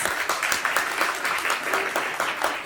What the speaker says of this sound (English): I want to just give you a round of applause.